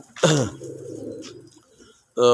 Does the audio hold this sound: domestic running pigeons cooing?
yes